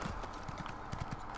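A horse's hooves clip-clop in a quick, regular rhythm while riding in Elder Scrolls Online, close and fairly quiet, with no talking.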